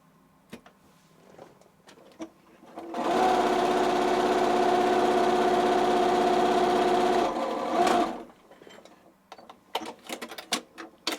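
A Singer Stylist S18 sewing machine runs a straight stitch in one steady, fast mechanical whir lasting about five seconds, with quiet handling clicks before and after.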